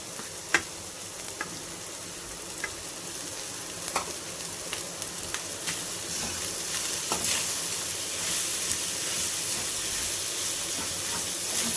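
Cooked, cooled rice is stirred bit by bit into palak paneer in a hot pan, giving a continuous hiss and sizzle punctuated by repeated spatula taps and scrapes against the pan; no talking.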